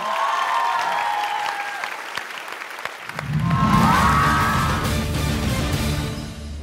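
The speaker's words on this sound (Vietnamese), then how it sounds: "Một tràng pháo tay nồng nhiệt chào đón Ngọc Khánh." Studio audience of a Vietnamese weight-loss dance competition show applauds warmly to welcome a contestant, broad steady clapping joined midway by swelling music and crowd noise.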